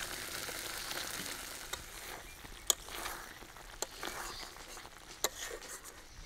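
Paneer sizzles in a pan of masala gravy with a steady soft frying hiss, broken by a few light clicks of a utensil against the pan, close and without talk.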